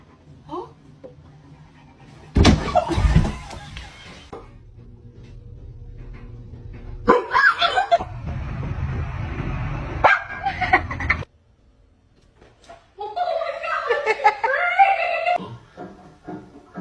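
A dog giving scattered barks and yelps between stretches of quieter rustling, with bursts of noise rising and falling over the scene.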